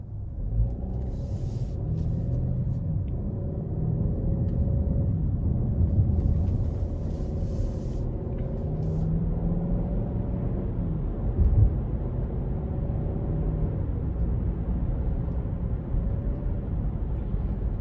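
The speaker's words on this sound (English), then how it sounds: "go ahead and take this Cherokee Limited out on the road for a quick test drive" A 2021 Jeep Cherokee Limited with the 2.0 engine driving on a road, heard from inside as a steady low rumble of engine and road noise with a brief bump partway through.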